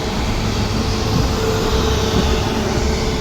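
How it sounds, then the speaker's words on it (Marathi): A train pulls into Ratnagiri station on the Konkan Railway, heard as a steady, dense rumble and roar that stays loud and even throughout, with no talking. "एक ट्रेन आली आहे."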